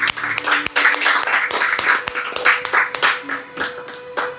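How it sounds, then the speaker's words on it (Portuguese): A church congregation at a celebration service applauds, dense clapping with some sharp individual claps standing out, close and continuous, with a faint voice or tone underneath. "você pode aplaudir ao Senhor?"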